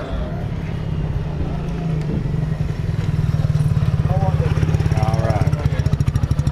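A motoped, a cross between a downhill mountain bike and a moped, shown at SEMA 2015, runs its small engine at a steady putter that picks up a quicker pulsing rhythm midway, close by, with people talking over it.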